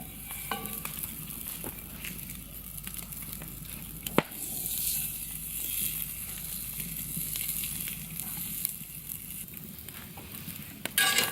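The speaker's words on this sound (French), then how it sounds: "Une fois que la poêle est bien chaude, on met les jarrets dedans pour les faire saisir." Lamb shanks searing in a very hot pan make a continuous close sizzle and crackle, broken by one sharp clack partway through and a few small pops.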